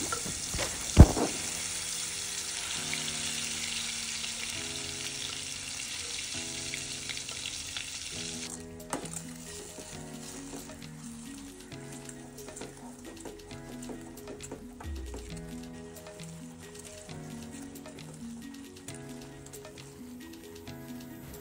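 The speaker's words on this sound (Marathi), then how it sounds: "2 चमचे तेल टाकून घ्यायचं। नंतर त्यामध्ये आपण जो भाजलेला वाटलेला वाटण आहे ते यामध्ये टाकून छान परतवून" Roasted ground masala paste fries in oil in a kadhai, with a broad steady sizzle for the first several seconds and then softer frying and occasional stirring scrapes. Background music plays throughout.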